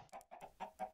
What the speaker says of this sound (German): Hier sind Hühner.